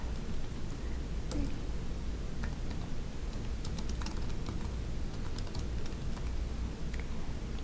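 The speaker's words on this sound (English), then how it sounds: "I'm just gonna type in Doteasy and the address." Fast, light keystrokes on a computer keyboard tap in an uneven run of soft clicks over a steady background hiss, with no talking.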